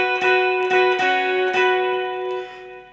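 Jangly capoed electric guitar plays the opening phrase of a song as bright, ringing chords re-struck four times, each left to sustain. It is close and alone, then fades at the end.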